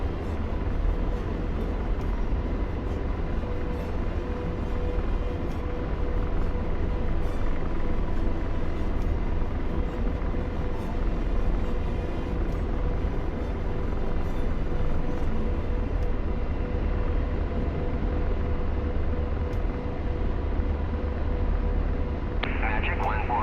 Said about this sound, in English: We'll have to turn the volume down on the Chinook again.